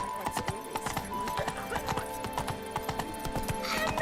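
Horse hooves clip-clop in a steady galloping rhythm in Witcher 3, close and clear over a bed of game music, with a brief whinny-like sound near the end.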